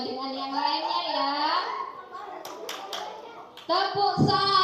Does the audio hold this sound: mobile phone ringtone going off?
no